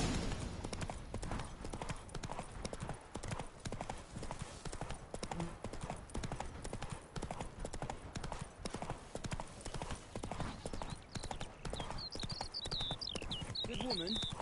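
Roach, the horse in The Witcher 3, gallops with a fast, steady clip-clop of hooves that carries through the whole stretch at an even loudness, and a few brief high-pitched calls come in near the end.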